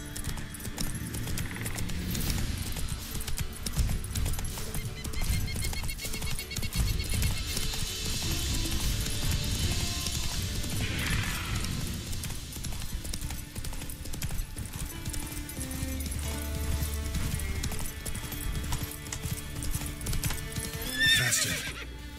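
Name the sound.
Roach the horse galloping and neighing in The Witcher 3 video game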